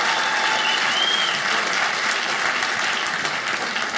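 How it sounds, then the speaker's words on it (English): A comedy club audience claps for a man in the crowd, a dense, loud round of applause that holds steady from start to finish with no talk over it. "Give Jason a big round of applause."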